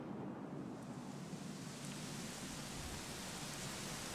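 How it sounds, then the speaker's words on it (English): Steady rain falls in the video game Dragon Quest XI, a faint, even hiss that continues unbroken with no talking. "Дождь пошел."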